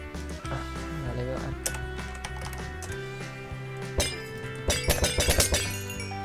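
Short bright item-pickup chimes from a Minecraft resource pack, a quick run of clinking glassy pings that bunch together near the end over a steady musical backing.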